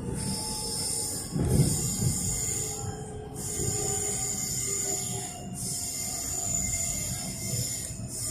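Metro train pulling into West Richmond station on the Hurstbridge line, a steady onboard rumble of wheels and motors with high electrical whine, rising briefly as it slows and clatters toward the platform, no talk.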